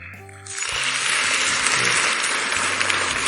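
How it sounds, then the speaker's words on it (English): Downloaded clapping sound effect: a dense, steady burst of many hands applauding at even loudness, starting abruptly after a short quieter lead-in with faint background tones. "It's a clapping sound effect"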